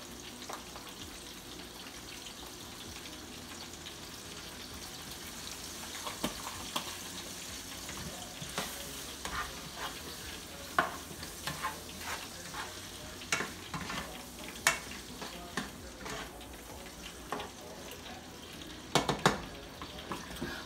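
Onions and tomatoes seasoned with Maggi sizzle softly in a pan over medium heat, with a steady frying hiss punctuated by scattered scrapes and clinks of a spoon stirring.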